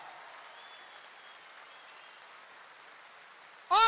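A large audience at a motivational speech event applauds in a soft, steady, distant patter, then a sudden loud burst of sound cuts in at the very end.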